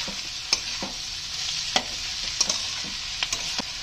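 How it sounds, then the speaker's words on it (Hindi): Vegetables for a paneer roll stir-fry on high flame in a pan, a steady loud sizzle broken by sharp spatula clinks and scrapes at irregular intervals, close up with no talk. "और ये सारे वेजिटेबल्स मैं हाई फ्लेम पे ही कुक कर रही हूँ"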